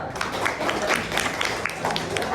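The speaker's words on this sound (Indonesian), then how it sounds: "Tepuk tangan dulu." Students in an Indonesian-language classroom lesson clap together, a dense, steady patter of many hands that fills the whole stretch at moderate loudness, with voices mixed in.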